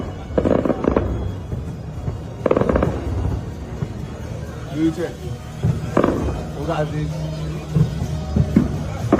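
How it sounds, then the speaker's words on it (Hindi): Bursts of gunfire from a C-RAM interceptor shooting at an incoming Iranian drone. Several loud, sharp volleys come in irregular clusters, with voices talking and shouting underneath. "इधर से ईरान का ड्रोन आ रहा है, इधर से जो है सीरैम इंटरसेप्टर जो है वो उसे रोक रहा है"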